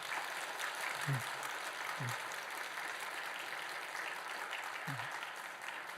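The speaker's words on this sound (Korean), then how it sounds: "우리 단원들에게 한번 크게 한번 감사 박수 한번 해주세요" An audience at a Sunday church service applauds the church orchestra members. The steady, faint clapping carries on throughout, with a few soft vocal sounds mixed in.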